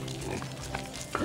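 A big black pig at a ranch pig gathering grunts and snorts in short low bursts, close by, with some background noise underneath.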